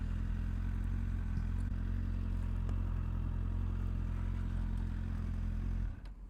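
A 2003 Suzuki 600 Bandit motorcycle engine hums low and steady as it rides slowly, then cuts off abruptly as it parks.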